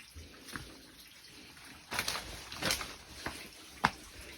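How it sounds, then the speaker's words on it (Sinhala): A small stream of water running out of a rock cave, a faint, low trickle with a few brief splashy surges, heard from nearby in an otherwise quiet spot. "ගුහාව ඇතුලෙන් වතුර එන්නේ."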